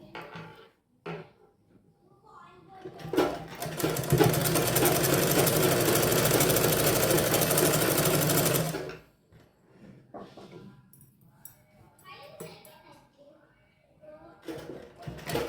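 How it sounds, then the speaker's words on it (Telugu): An electric sewing machine stitches along a blouse neckline, a loud, fast, even mechanical whirr lasting several seconds, framed by quieter handling of the fabric and someone talking before and after. "ఇక్కడ పైనుంచి ఒక స్టిచ్చింగ్ పెట్టాలి మనం"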